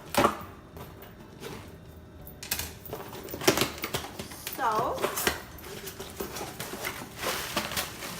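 Rustling paper and cardboard as a Grove subscription box is opened and unpacked, with crinkling, taps and handling noises under a person talking.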